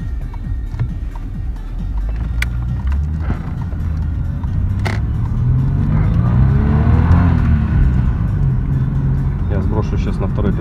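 Audi 2.6 ABC V6 engine with variable-geometry intake manifold pulling under acceleration in second gear, a steady loud drone with a rising engine tone midway through, heard from inside the car.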